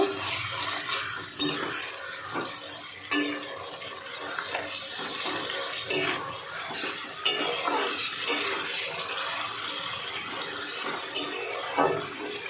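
A spoon scrapes and clinks around a pot of mutton kosha as it is stirred with ground spice paste and the wash water from the bowl, the wet, irregular scraping continuing steadily, close and fairly loud.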